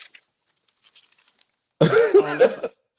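A short burst of coughing, close and fairly loud, breaking a long stretch of near silence.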